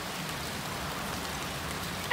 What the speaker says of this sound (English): and raining